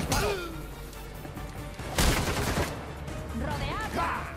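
Gunfire in the Gotham Knights video game, dense bursts of shots mixed with game effects and a sharp crash near the middle, with a character's voice calling out over the action.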